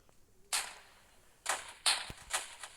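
Gunfire in the Roblox game Military Tycoon: four sharp, separate shots crack out of a quiet background, one alone and then three spaced closer together near the end.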